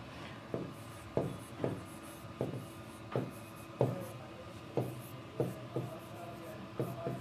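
Marker or chalk strokes on a board during a Bengali-language business studies lesson, a steady run of short scratchy taps roughly every half second, close and moderately loud with no talking.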